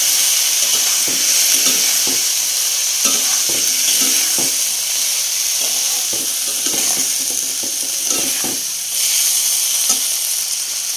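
Boiled peas and potatoes, drained from a pressure cooker, stirred in a hot frying pan: steady loud sizzle and hiss with repeated scraping strokes of the spoon throughout, no talking.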